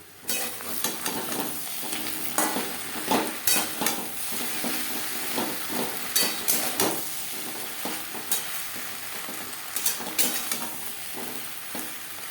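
Green banana pieces and slit green chillies fry in a pan for a fish curry, giving a steady oily sizzle with frequent scraping, stirring clatter from a spatula against the pan, close up and without talk.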